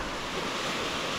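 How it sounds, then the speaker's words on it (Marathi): Water rushes from a waterfall in a calm outdoor setting, a loud, steady, close roar of flowing water that holds evenly throughout with no voices. "पाण्याचा आवाज,"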